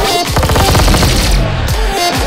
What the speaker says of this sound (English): So the bullets actually come out from where the gun's actually pointing.